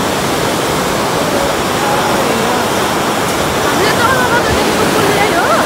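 Rushing river water where two mountain streams join on the Melamchi khola, a loud, steady, close roar of turbulent flow filling the whole stretch without a break.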